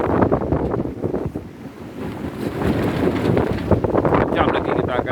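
Rough high sea waves surge and crash around a sailing boat while strong wind buffets the microphone in a loud, continuous roar, with a voice speaking faintly underneath.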